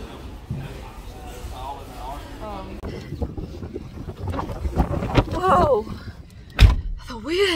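Strong outdoor wind gusts and buffets the microphone in a steady, rumbling roar that swells louder toward the end, with a voice speaking over it and a sharp thump near the close.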